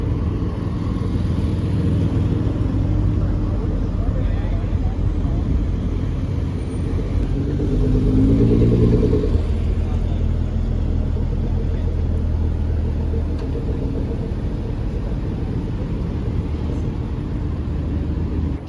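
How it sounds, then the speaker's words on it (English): Cars roll slowly into a supercar show in Toronto, a steady low engine rumble running the whole time with one nearer vehicle swelling past partway through, all set against constant outdoor background noise. "we've got some cars rolling in behind us"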